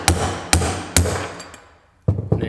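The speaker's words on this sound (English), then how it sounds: "we're just gonna start giving it some taps with a hammer" Hammer striking a wheel bushing on a Craftsman riding mower to drive it out, with three sharp metallic taps about half a second apart, a pause, then two more quick hits, close and loud.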